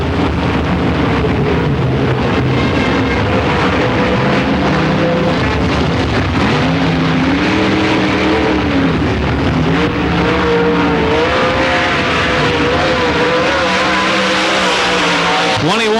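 A race car on a dirt track during qualifying for the 1995 Dirt Track World Championship, its engine roaring loud and close as it climbs and falls through the rev range through the corners, with heavy wind buffeting on the microphone.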